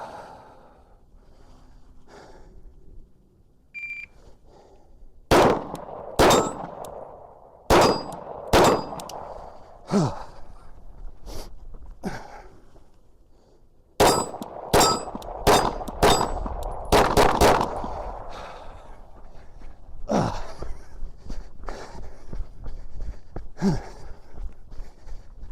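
Glock 19 pistol rounds ringing off steel targets: sharp clanging hits in two rapid strings of about five to six shots each, loud and close with pauses between, breathing audible in the gaps and no talk.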